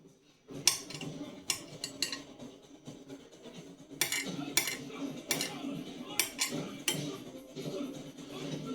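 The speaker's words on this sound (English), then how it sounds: "chop up these mushrooms" A knife chopping mushrooms on a cutting board in a home kitchen while prepping spaghetti, giving irregular sharp taps and knocks in bursts, close and clear with no voices.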